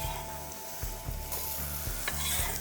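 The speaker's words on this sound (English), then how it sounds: "Gonna have that chili be sauteed a little bit to really bring out a little bit more of the flavor" Chili sautés in a pan for a tofu bánh mì glaze, making a continuous close sizzle broken by rhythmic scraping stirs every half second or so.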